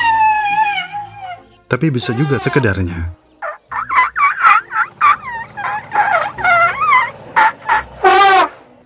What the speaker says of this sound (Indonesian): Suara trompet melengking adalah yang paling klasik.